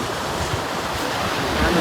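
Sea waves wash steadily onto a beach along the Malvan coast, a continuous broad rushing surf mixed with wind, moderately loud and unbroken.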